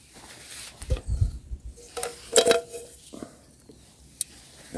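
A metal frying pan is lifted out and handled in a home kitchen, giving a few scattered clanks and light knocks. The sounds are close but quiet, with no talking.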